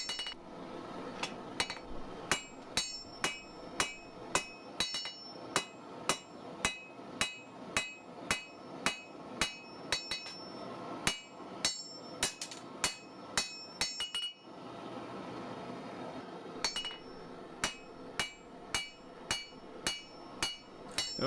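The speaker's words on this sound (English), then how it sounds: "it's just a case of more hammering" A blacksmith hammers a sgian dubh blade in a steady rhythm of loud, ringing blows, pausing briefly partway through before resuming.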